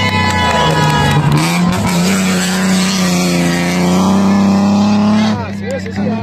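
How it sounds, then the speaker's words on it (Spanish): A rally race car drifting through a stage of the Caminos del Inca rally between Ayacucho and Andahuaylas, its engine a loud, sustained high-revving roar that rises and falls, heard close, with an excited commentator talking over it. "¡Increíble el derrape!"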